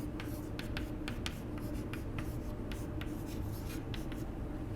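Chalk scratching across a classroom blackboard while a fluid mechanics problem is worked out, giving a steady run of short scraping strokes at close range, heard alone with no talking.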